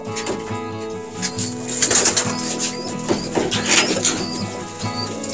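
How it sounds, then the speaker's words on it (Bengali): High-flyer pigeons coo in low, throaty repeated calls at close range, joined by bursts of wing flapping and a few chirps, with no talk. "টপ ক্লাসের কিছু কবুতর এখানে আছে।"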